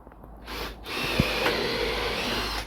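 A power drill whirs steadily through wood for a couple of seconds, close by, with a brief thump partway through.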